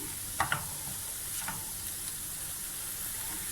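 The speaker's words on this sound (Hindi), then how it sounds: "अब हम इसमें टमाटर डाल देंगे" Minced chicken sizzles steadily in a frying pan with garlic-ginger paste as tomatoes drop in, two soft thuds near the start, then a constant close hiss with faint stirring.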